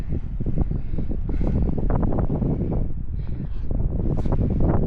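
Steady, loud wind buffeting the microphone at Tantallon Castle, East Lothian, Scotland, with continuous low rumble and gusty roar throughout, no pauses.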